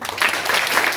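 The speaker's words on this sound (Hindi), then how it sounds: "जोरदार तालियां।" Loud, dense applause fills a hall at a World Mental Health Day celebration, a steady wash of many hands clapping close by with no talk over it.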